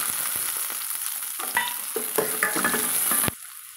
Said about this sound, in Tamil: வெட்டி வச்சுக்கிற சின்ன வெங்காயத்தை சேர்த்திக்கிறேங்க.